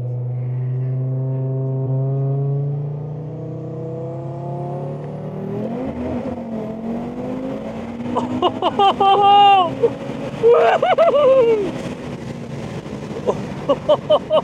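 A 940-horsepower Audi RS3 on low boost accelerates hard in a roll race, its engine note climbing steadily and loudly up close, then breaking into sharp rising revs and gear changes with excited talk in the car.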